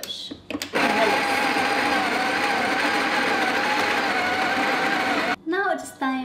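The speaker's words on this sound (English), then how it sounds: "Now we're going to grind our coffee." A Breville Barista Express grinds coffee beans into a portafilter, a loud, steady whirring grind of about five seconds that starts and stops abruptly, with brief talk before and after.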